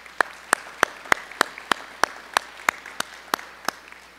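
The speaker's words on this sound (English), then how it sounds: "Bill, we'd like to recognize you with some applause right now" Slow, evenly spaced claps ring out about three times a second at a county budget meeting, sparse and crisp, sounding like a handful of people applauding in a quiet room.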